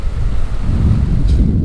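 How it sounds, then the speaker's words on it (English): Loud, constant wind buffeting and rushing waves on a sailboat crossing the Atlantic from the Canaries toward Cape Verde in 20 to 25 knots of wind, with a deep roar of water and no voices. "It's about 20 to 25 knots of wind."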